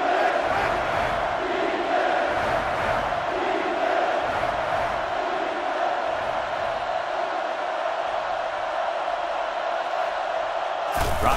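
Stadium crowd noise from the college football video game NCAA Football 08, a steady loud roar of massed voices with swelling shouts and cheers, continuous throughout with no individual speech.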